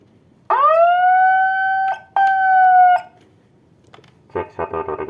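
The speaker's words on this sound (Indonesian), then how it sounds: "Kalau kita lepas, sirine berbunyi, kita tekan, masih berfungsi normal mikrofonnya seperti ini." A TOA ZR-2015S megaphone microphone's built-in alarm siren sounds when released, two loud, steady electronic tones with a brief break between them, followed by a few short, choppy bursts.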